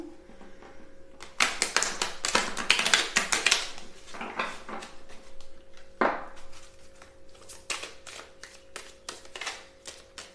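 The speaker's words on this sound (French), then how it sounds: "j'ai du mal à les mélanger correctement" Tarot cards shuffled by hand in quick bursts of crisp, rapid riffling and flicking close by, with short pauses between bursts and a sharper slap midway.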